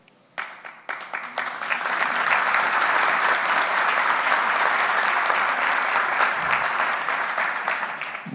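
An audience at an insurance convention bursts into applause that builds within a second into dense, sustained clapping, loud and continuous to the end, with no speech over it.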